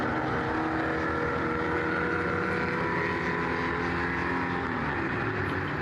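A Porsche 904-6 GTS Carrera races at the 2025 Spa Classic, its engine a steady, loud broadband roar that holds level throughout, mixed with wind buffeting on the microphone.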